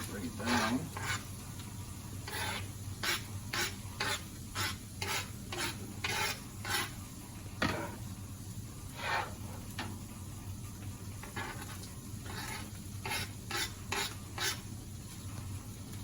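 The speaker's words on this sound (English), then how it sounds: "We're gonna saute these vegetables so that they don't get not so hard" Vegetables sauté with browned hamburger meat in a pan, giving a continuous close sizzle under a steady rhythm of spatula scrapes and stirs.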